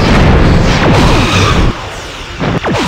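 A loud, roaring explosion engulfs a destroyed enemy starship in Star Trek Bridge Commander, a sustained booming rumble with sweeping debris tones that briefly dips, then surges again.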